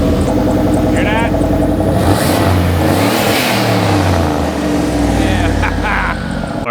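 Cheap turbocharged V8 engine revving loudly and steadily up close, with rising and falling pitch over a continuous heavy rumble throughout.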